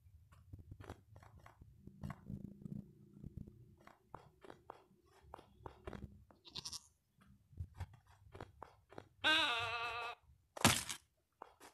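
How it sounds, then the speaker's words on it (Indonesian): In Minecraft Caves and Cliffs, a sheep gives one clear, vibrating bleat late on, then a short sharp burst, set among many soft blocky footstep crunches and taps that fill the quiet game soundscape. "Lalu di sini banyak domba"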